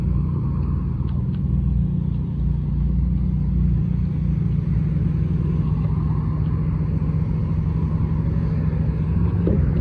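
A McLaren 720S supercar drives past outside a car festival, a continuous dense low engine rumble holding steady and fairly loud throughout, with no voices over it.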